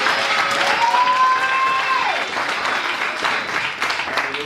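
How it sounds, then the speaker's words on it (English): A church congregation at a Sunday service claps hands in a dense, sustained burst of applause that fills the room, with crowd noise and a faint voice or tone sliding down beneath it. "just clap your hand for Jesus."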